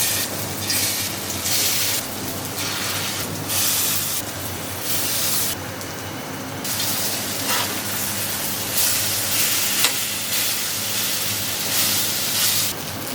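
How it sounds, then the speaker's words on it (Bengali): Taro fritters mixed with prawns and coconut fry in hot mustard oil in a kadai, a loud, steady, close hiss with a crackling edge that runs throughout, with no talking. "সুন্দর করে মেখে নিয়েছি, এখন ভেজে নেব।"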